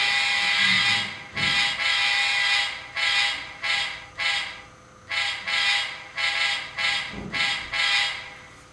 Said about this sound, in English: Let's take a listen to the horn.